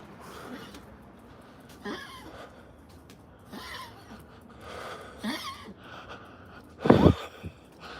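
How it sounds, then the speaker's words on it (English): A dog with a partially collapsed trachea breathes heavily with ragged, rasping gasps in several short bursts, the loudest and harshest near the end, close by with no talk. "That's my dog. She's got a partially collapsed trachea. It sounds horrible, but it's not quite as bad as it sounds."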